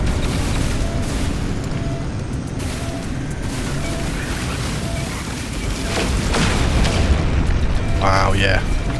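Repeated booming explosions and bursts as an enemy swarm is destroyed in the space game No Man's Sky, loud and dense over a constant rumbling background with layered effects.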